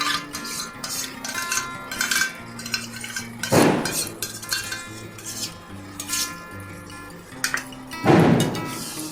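Chicken bharta with yogurt stirred in a pot: a spoon scrapes and clinks against the metal, with two loud scraping clatters standing out among lighter taps, and no voices.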